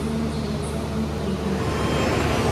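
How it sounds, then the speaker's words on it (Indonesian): Kahuripan passenger train, a subsidised economy service running between Blitar and Bandung, departing Madiun station; a steady, dense rumble of rolling rail cars continues without a break at moderate loudness and close range. "Kita sepertinya ketemu sama kereta api Kahuripan"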